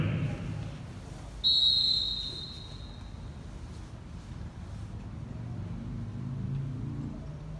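A referee's whistle at a football stadium: one sharp, shrill blast about half a second long, followed by the hushed murmur of a large crowd falling into silence.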